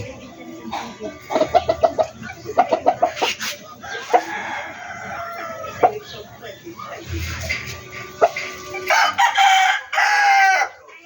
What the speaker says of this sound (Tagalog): napakalaking manok